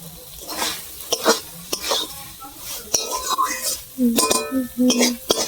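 A potato curry with fried spices cooks down in a pan, drying out as it is stirred; a soft sizzle mixes with metal spoon clinks and scrapes while someone talks over it.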